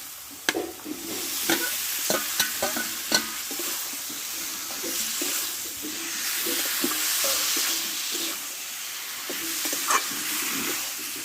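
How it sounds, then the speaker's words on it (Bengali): Vegetables (data greens) stir-fried into cooked spice paste, a steady sizzle with repeated scraping and clacking of the spatula against the pan, close and fairly loud with no voices. "সঙ্গে ভালোভাবে আমি কষে দেবো"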